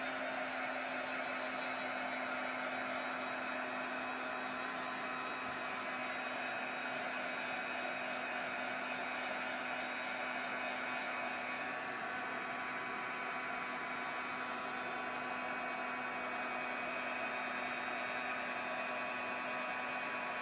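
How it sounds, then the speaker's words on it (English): A hair dryer blows steadily on a mixed media journal page, a constant close whirring hum with a steady tone that runs unbroken throughout, no voices. "I'm just going to give that a quick dry."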